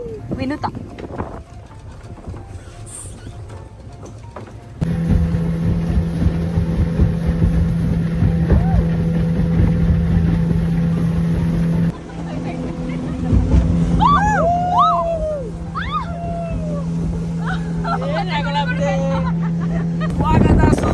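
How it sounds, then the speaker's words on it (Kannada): A speedboat's engine hums low and steady through a ride on open water, with wind and splashing noise and several people chatting and calling out over it. "ನಾವು ನೋಡಿ ಈಗ ಸ್ಪೀಡ್ ಬೋಟ್ ಮಾಡ್ತಿದ್ದೀವಿ"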